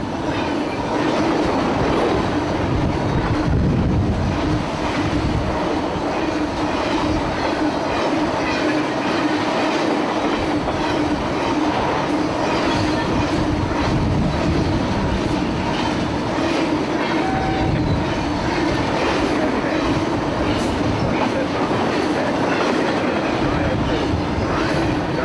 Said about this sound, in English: a piggyback train running at full speed through a Georgia pine forest can make its own weather